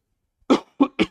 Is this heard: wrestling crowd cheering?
no